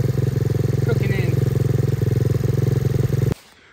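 A close, loud SSR125 motorcycle with a bent frame and wrapped exhaust runs after final carburetor adjustments, a steady throbbing idle putter that cuts off abruptly near the end.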